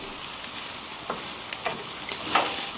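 Lamb chops sizzling on a barbecue grill just after being flipped, a steady bed of hiss and crackle with a few brief louder pops rising out of it, no talking.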